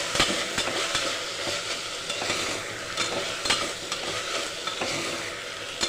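Mint leaves fry in hot oil for a brown-rice vegetable pulao, a loud, continuous crackling sizzle broken by repeated sharp stirring scrapes and taps of a utensil against the pan, with no talking.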